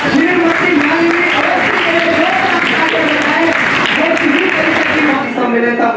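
Audience applauding at an award ceremony in the Indian parliament, sustained loud clapping throughout, with a voice speaking over it.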